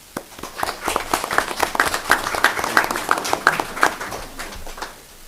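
Applause from a city council meeting audience, steady rapid clapping that swells and holds for several seconds before fading out, with no speech over it.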